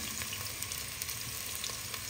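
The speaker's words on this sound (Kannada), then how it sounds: "ಆಗಿದ ತಕ್ಷಣ ಈರುಳ್ಳಿ ಅದಕ್ಕೆ ಬಿಡಬೇಕು." Onions frying in hot oil for a togarikalu curry, giving a steady, dense crackling sizzle with no pauses, fairly faint and heard alone without talk.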